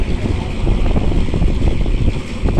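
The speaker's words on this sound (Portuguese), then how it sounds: "Tá um vento aqui, né, pessoal? Tá ventando muito." Strong wind buffeting the microphone outdoors at a tractor sales yard, a heavy continuous low rumble with gusty swells, loud and unbroken, with no talk.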